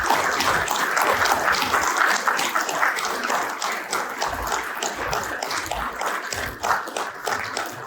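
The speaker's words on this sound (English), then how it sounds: "Let's give Joe a big round of applause for his uncle and father." An audience at a Shortline Legends recognition event applauds for Cyril and Louis Keller, the Bobcat founders: steady, dense clapping heard at moderate distance, fairly soft, with a few scattered louder claps.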